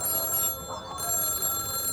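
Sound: telephone ringing in a horror video game

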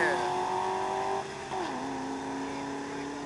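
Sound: drag racing car engine revving at the start line

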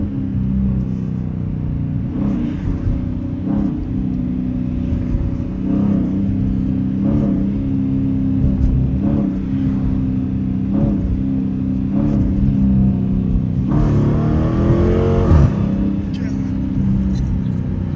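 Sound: Dodge Challenger RT accelerating and revving

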